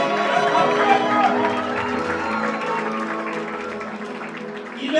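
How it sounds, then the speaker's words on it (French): A church congregation claps and cheers for a graduate at a ceremony, a dense, steady wash of applause with voices mixed in, holding at an even, loud level before briefly swelling at the end. "Acclamons pour lui."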